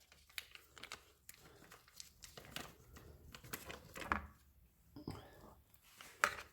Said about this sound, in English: I'm going to take my butter. And I'm just going to mix my butter up in that